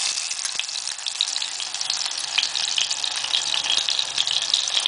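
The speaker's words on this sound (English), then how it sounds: "Now we are transferring the ashwagandha paste into the ghee." Ashwagandha paste frying in ghee, a steady bright sizzle with small crackles throughout, close and alone.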